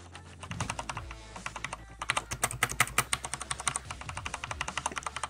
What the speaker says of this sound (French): Découverte du clavier Corsair K70. On va toucher vite fait.